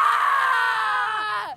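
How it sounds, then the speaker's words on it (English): A single loud, sustained human scream lasting over a second, bending downward in pitch as it trails off, with no other voices or background sound. "Do you want us to scream for you?"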